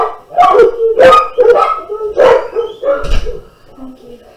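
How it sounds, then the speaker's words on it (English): Several dogs bark and howl loudly and close in repeated bursts, yips and drawn-out cries overlapping, fading toward the end. "there go the dogs"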